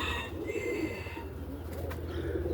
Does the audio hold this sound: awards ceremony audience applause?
no